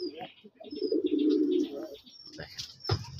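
Red native pigeons at a farm coo in low, throaty rolls close by, with thin chirps and a brief flutter of wings around them.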